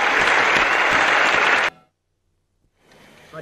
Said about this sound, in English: the crowd is going crazy for little Chrissy Evert of Fort Lauderdale, Florida